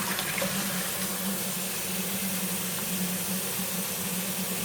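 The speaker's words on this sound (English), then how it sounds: "I just rinsed it under some running hot water." Steady rush of hot tap water running over a KitchenAid dishwasher filter being rinsed in a sink, a continuous even hiss with a low hum beneath and no talking.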